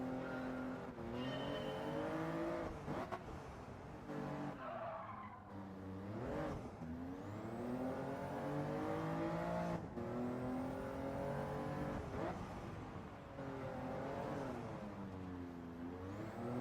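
Race car engine in Gran Turismo 7 revving hard and continuously, pitch rising and falling through gear changes and throttle lifts, with tyre squeal and skidding mixed in, loud and close for the whole stretch.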